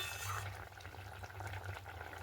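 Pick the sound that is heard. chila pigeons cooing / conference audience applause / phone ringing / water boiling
water boiling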